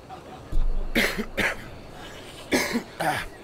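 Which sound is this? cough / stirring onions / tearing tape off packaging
cough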